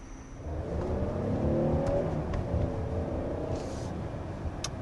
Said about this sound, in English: that was a brief acceleration up to 30 miles an hour